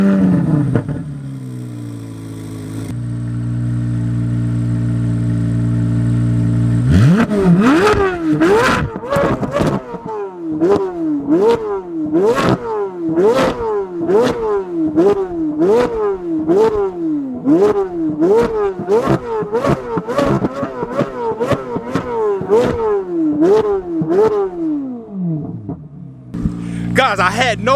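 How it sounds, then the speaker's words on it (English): A Chevrolet Corvette C8 Z06, 670 hp and revving to 8600 RPM, idles, then is blipped hard again and again, a loud, close run of sharp exhaust rises and falls with crackling pops between, before settling back to idle. "let you guys hear this car, because you're gonna miss out on life if you don't hear this C8 rev."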